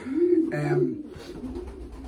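Pigeons coo in a pigeon loft, a low throaty burbling call that repeats in several soft rolling phrases, close by and steady.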